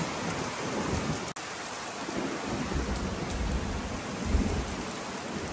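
Steady heavy rain pours continuously during an evening storm in France, a dense hiss with a deep low rumble underneath, like a storm; no voices.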